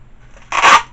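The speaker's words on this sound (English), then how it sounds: "Knife's right here. Let me just cut this." A knife slices through the packaging of an RC Corsair plane in one brief, close, rasping cut that stands out against a quiet room.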